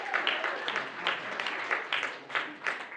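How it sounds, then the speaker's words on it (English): A stand-up comedy audience applauds in scattered bursts of clapping, fairly faint and uneven over a few seconds. "Give a warm applause for yourself for coming out tonight."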